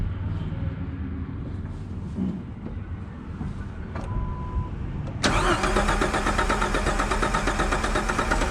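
A 1998 Jeep Wrangler engine that has sat for two years cranks with a low grinding rumble, then fires abruptly and settles into a loud, steady idle close by.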